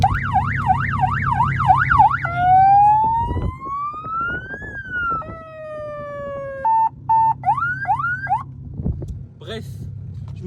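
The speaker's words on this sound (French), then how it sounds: "je me suis installé une petite sirène comme ça" Aftermarket siren fitted to a BMW 530d F10, loud and close, cycling through rapid wailing warbles, a long rising-falling sweep, then short stepped yelps and chirps over a low engine rumble.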